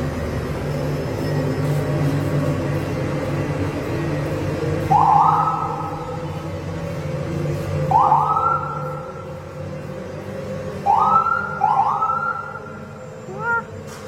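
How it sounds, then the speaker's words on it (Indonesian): A hearse's siren wails at a horror ride inside Cipinang Indah Mall, sounding several rising whoops at intervals over a low indoor hum. "mobil jenazah"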